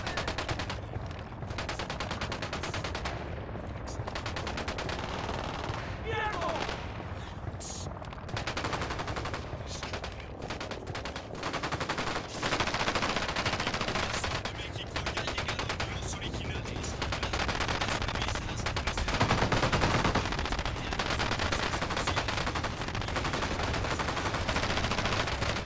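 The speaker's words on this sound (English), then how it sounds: "Opening fire" Gunfire in the video game Ghost Recon Wildlands, loud bursts of automatic weapon fire and rapid repeated shots that continue throughout, with in-game voices shouting at points.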